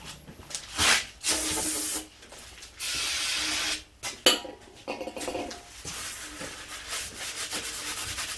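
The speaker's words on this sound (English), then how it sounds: "Give me another spray with your brake cleaner." Aerosol brake cleaner sprays in several close, loud hissing blasts during work on an off-road trailer, each lasting about a second, separated by pauses, followed by softer scraping and rubbing sounds.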